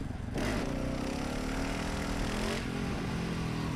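A motorcycle engine held at high revs with the throttle open during a wheelie, a steady, droning roar that rises sharply just after the start and stays even throughout, with no speech.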